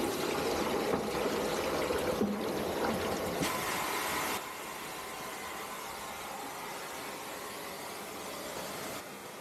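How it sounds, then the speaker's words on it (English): A factory production line fills 18-litre pails with hydraulic oil, giving a continuous machine hum and rushing liquid noise that drops to a quieter steady drone about halfway through. "It is producing hydraulic oil with 18 liters pail."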